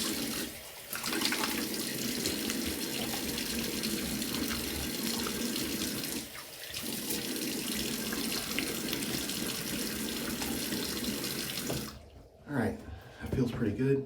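Water runs from a tap into a sink for a rinse while shaving, a steady close hiss that briefly cuts out twice, then stops near the end with splashing; a voice talks over it.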